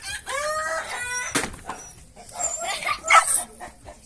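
Dogs chase chickens through a rainy yard, with barking mixed into agitated clucking and squawking from the fowl, and a faint crowing call rising near the end.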